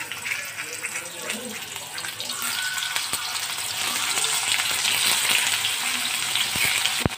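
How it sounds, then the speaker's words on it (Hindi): Eggplant slices fry in hot oil with a steady, close crackling sizzle that grows slightly louder, ending with a few sharp clinks, and someone speaks briefly over it. "इसमें मैं ये बैगन फ्राई कर लूँगी।"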